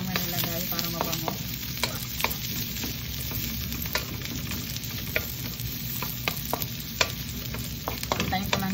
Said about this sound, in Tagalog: pwede nang isunod ang bawang